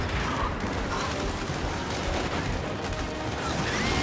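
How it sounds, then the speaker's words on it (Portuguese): Gunfire from the video game Gears 5 comes as a dense, continuous clatter of rapid shots and mechanical noise, loud and close with no pauses. "Tô dando tiro até dos outros... Dos outros inimigos aqui."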